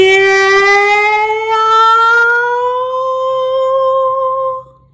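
A singer's voice imitates a siren as a vocal exercise, one long loud sustained tone sliding steadily upward in pitch over several seconds, then fading out at the end.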